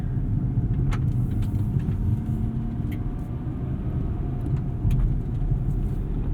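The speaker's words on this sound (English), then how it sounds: "engine note sounds like a Z." Engine of a new Nissan Z heard from inside while driving, a steady low rumble with road noise, constant and fairly loud, with a few faint clicks above it.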